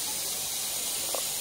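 A pressure cooker holding chicken curry gives off a steady, loud, continuous steam hiss throughout, with no voices.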